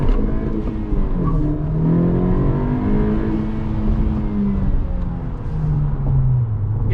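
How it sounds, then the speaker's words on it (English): A 10th-generation Honda Civic Si engine with an aftermarket air intake revs repeatedly with a throaty intake whoosh, rising and falling in pitch, loud and close. "And here you can listen to the intake."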